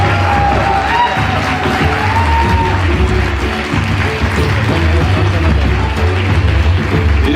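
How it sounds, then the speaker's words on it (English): An audience at a stage event in Pune keeps up loud, dense, sustained applause with scattered cheers and whoops, filling the space without a break. "Come on, let's keep the applause going."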